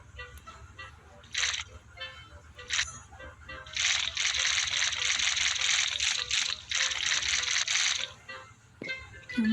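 Plants, including foxglove, are watered in a video game: several bursts of splashing, gushing water, with a short spurt first and then a longer pour, all broken up by quieter gaps.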